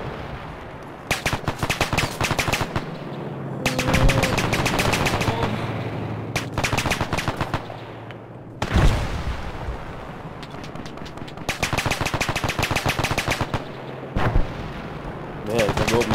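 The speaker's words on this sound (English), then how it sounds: "Okay, watch us shoot now." Automatic gunfire in ARMA 3's Pacific Solomon Islands setting rattles out in loud repeated bursts, several seconds each, with short pauses and a heavier blast midway, and no talk over it.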